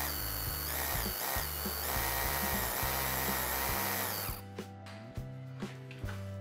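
A power drill whirs loudly and steadily for several seconds drilling into a wall, then cuts off, followed by a few sharp knocks and clicks.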